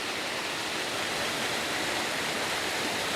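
A small waterfall spills over a mossy edge, producing a loud, unbroken rush of white noise close by, steady throughout with no pauses.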